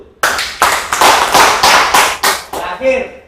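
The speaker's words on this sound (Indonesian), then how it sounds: "Oke, tepuk tangan dulu." A group claps in a steady rhythm, bursts of applause rising and falling about twice a second for a few seconds, fairly loud and close.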